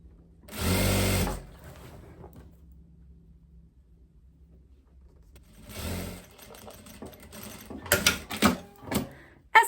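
A sewing machine stitches a narrow 1 cm hem along the top edge of a long viscose dress, loud bursts of running stitching separated by quiet pauses, the last stretch broken into short choppy runs.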